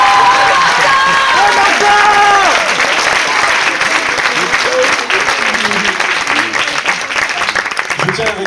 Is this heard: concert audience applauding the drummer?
yes